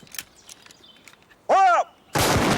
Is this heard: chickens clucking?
no